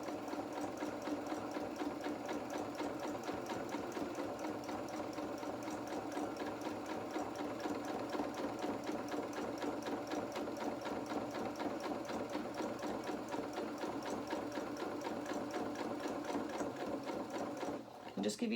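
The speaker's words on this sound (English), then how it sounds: "Just give your machine some time because it is going through 6 layers of fabric" A sewing machine runs steadily through six layers of fabric while stitching a baby bib, a continuous fast mechanical whir and rhythmic needle clatter that stays even throughout before a brief change at the very end.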